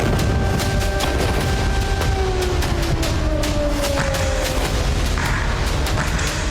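Repeated heavy explosions in Gaza rumble through a dense, noisy scene, with sharp cracks scattered throughout and a faint wailing tone drifting underneath.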